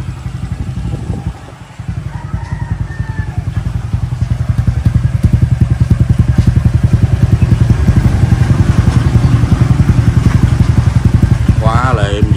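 A Honda Future Neo motorcycle engine idles steadily and smoothly close by, with an even rapid rhythm that holds throughout, apart from a brief dip near the start.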